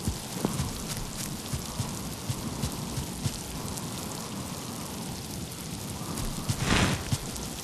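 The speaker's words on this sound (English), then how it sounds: "the next second it'll be raining and thundering" Steady heavy rain pattering on a surface in a video game, with a low rumble of thunder swelling near the end; no voices.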